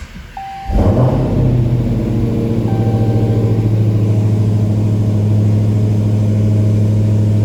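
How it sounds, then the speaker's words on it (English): A Dodge Hellcat's engine cranks and fires after a moment of quiet, then settles into a loud, steady, throbbing idle close by with no voices. "Push the clutch in. Turn the car on."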